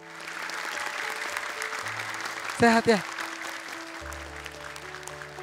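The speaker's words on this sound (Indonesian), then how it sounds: "Tepuk tangan dong buat ayahnya Aida" A studio audience on the Indonesian TV show Hafiz Indonesia 2025 claps for a contestant's father, producing steady applause throughout, with a brief spoken question in the middle and low tones underneath.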